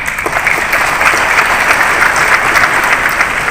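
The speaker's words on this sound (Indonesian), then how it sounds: "Tidak salah kalau saya mengajak Bapak Ibu semua kita memberikan aplaus untuk anak-anak kita" Loud, steady applause from an audience at a university graduation ceremony in a hotel ballroom, dense and continuous throughout without a break.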